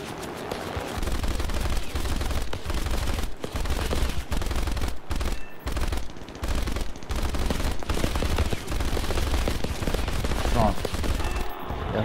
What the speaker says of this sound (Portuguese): Ele tá atirando em mim aqui